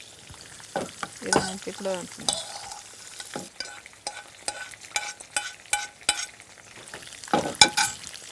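Spices being stirred and dry-roasted in a pan for a Jain-style brinjal curry, with repeated scraping and stirring strokes, a soft sizzle and a few brief spoken words.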